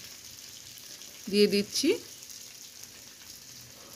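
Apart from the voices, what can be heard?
stir-frying green chilli paste in a pan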